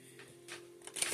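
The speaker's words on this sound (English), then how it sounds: "And just shuffle the cards again." Tarot cards being shuffled by hand, a soft papery riffle that builds from light brushing to a denser flutter at the end, close and quiet with no talking.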